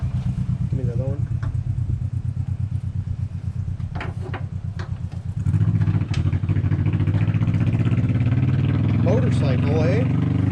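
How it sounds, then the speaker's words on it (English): A motorcycle with a passenger rides past a garage, its engine a steady low drone that swells louder and nearer halfway through, with brief voices talking over it. "Motorcycle, eh?"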